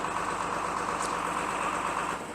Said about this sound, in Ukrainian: Зараз виїжджає новенький трактор Юто NLX 1024